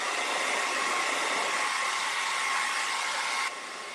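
Hair dryer blowing on handmade craft pieces for a door hanger, a loud, steady rushing whoosh that runs without a break and eases slightly lower near the end.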